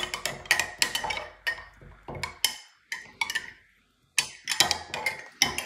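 A utensil stirs oats and water in a container, making a quick run of sharp clinks and taps against the sides. The strokes come in close clusters with a brief pause midway, loud and near, with no talking.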